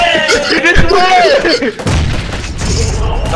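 Grenade blasts in PUBG boom in quick succession with shouting voices over them, followed by a rumbling tail of further distant detonations.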